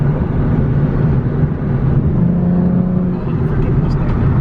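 A Ford Mustang at an exotic car show rolls past close by with a steady, loud engine rumble.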